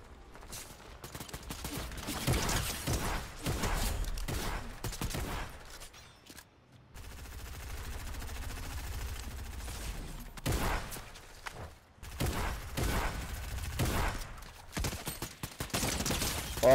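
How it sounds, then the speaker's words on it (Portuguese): Gunfire in the video game Fortnite comes in repeated loud bursts and rattling volleys, broken by short quiet gaps, some shots near and sharp, others more distant. "Tem tiro vindo daqui."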